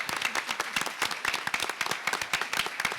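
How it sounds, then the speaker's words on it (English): An audience at a panel discussion gives a round of applause, with dense, steady clapping from many hands. It is moderately loud and continuous throughout. "Can we have a round of applause for President Kirwan?"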